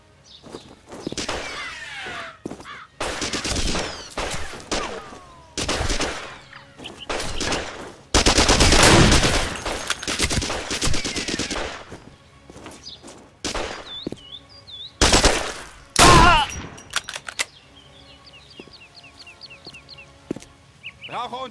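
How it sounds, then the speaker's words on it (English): Bursts of machine gun fire ring out across a WWII commando shooter game, several rapid volleys of varying length, loud and close, with a voice speaking between them and bird chirps near the end. "They have machine guns guarding the entrance."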